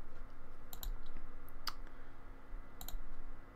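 Sharp little clicks of a computer mouse, a few spaced taps, some in quick pairs, heard close over a faint steady room hum.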